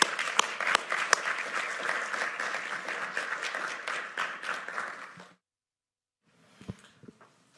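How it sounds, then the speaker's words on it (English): A school district meeting audience gives a round of applause for the team, a dense burst of clapping for about five seconds that cuts off abruptly, followed by a few faint scattered sounds. "concludes my report with a round of applause for our team"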